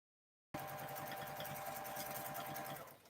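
A home sewing machine runs steadily while quilting feather patterns, a fast even needle chatter with motor hum starting abruptly and continuing for about three seconds before easing off, close and alone.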